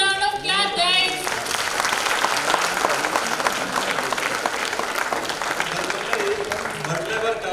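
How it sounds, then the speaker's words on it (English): Loud, sustained applause and cheering from a crowd honoring parents and teachers at a medical postgraduate convocation lamp-lighting ceremony, a dense wash of clapping throughout with voices mixed in and a brief musical tone near the start. "Let's give a huge round of applause for all the parents and gods of knowledge, our own beloved teachers"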